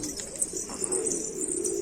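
Pigeons in a coop give soft, continuous cooing, fairly near and steady throughout, with faint higher chirps above.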